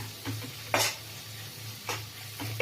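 Onion and capsicum frying in a pan on low heat for egg chilli masala, a soft continuous sizzle broken by a few sharp stirring scrapes and clinks, with no one speaking.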